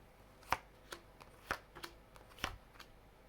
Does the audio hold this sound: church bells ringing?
no